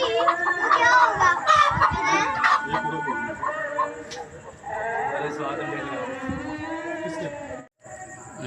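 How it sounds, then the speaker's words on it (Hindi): Aseel hens clucking and calling close by, mixed with excited children's voices and adult speech throughout, the bird sounds rising and falling in short bursts. "मुर्गियां आ गई हैं, देख रहे हैं आप।"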